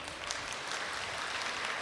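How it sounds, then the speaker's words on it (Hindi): An audience applauds at a spiritual discourse, a steady wash of many hands clapping together with no clear gaps, fairly dense and even throughout. "हाँ बजाओ, अपने लिए ताली बजाओ।"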